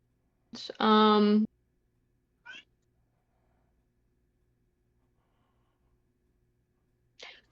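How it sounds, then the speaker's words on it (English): A pet cat lets out one loud, drawn-out meow close by, followed by two brief, faint chirps in an otherwise quiet room. "Oh, sorry, that's my cat."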